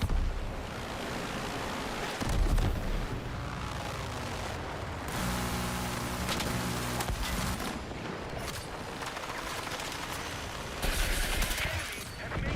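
Rocket explosions in a video game, heavy booming blasts and rumbling bursts with scattered gunfire between them, loud and continuous, growing louder toward the end, with no talking.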